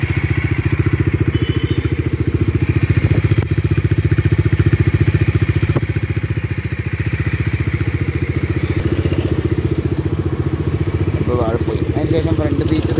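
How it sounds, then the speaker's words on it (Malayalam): A Bajaj Dominar 400 motorcycle engine idles steadily and loudly close by with an even, rapid thumping pulse, a few clicks and light clatter over it, and brief faint sounds near the end. "വണ്ടി എന്തായാലും ഒരു 5 മിനിറ്റ് റണ്ണിങ്ങിൽ വെക്കാമെന്നാണ് ഞാൻ ആലോചിക്കുന്നത്"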